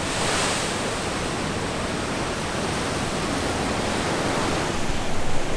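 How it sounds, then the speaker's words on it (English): Ocean waves crashing into cliffs at Devil's Tears on Nusa Lembongan, a continuous broadband roar of surf and spray, loud and steady with wind buffeting the mic and a slight surge near the end. "the ocean going crazy and crashing into the cliffs, causing the water to spray all over the place."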